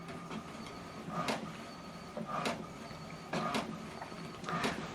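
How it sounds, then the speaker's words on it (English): HP Deskjet 2700 inkjet printer printing an alignment page, its carriage making four quick sliding whirs at regular intervals over a low mechanical hum, close by without talk. "what it's doing now, what is printing is alignment"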